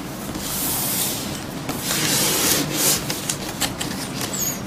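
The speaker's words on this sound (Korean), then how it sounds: "일단 개봉을 하나씩 해볼게요." Retail boxes for Inno3D and Colorful iGAME RTX 2060 graphics cards are opened up close, with bursts of cardboard rubbing, scraping and rustling.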